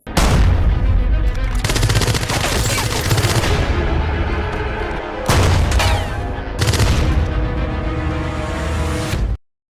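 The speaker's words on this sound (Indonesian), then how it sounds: "Di sini pun kemudian terjadi adu tembak yang cukup seru." Loud gunfire erupts in a film shootout, with rapid shots blasting almost continuously in two long volleys split by a brief break, then cutting off abruptly.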